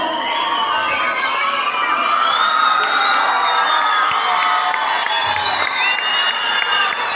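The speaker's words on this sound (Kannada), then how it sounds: "ಜೋರಾಗಿ ಚಪ್ಪಾಳೆ ತಟ್ಟಬೇಕು" Large crowd at a kushti wrestling match cheering and shouting continuously, with whoops and excited voices rising over a steady roar; clapping is not distinct.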